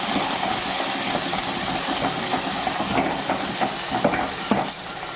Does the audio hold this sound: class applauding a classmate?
no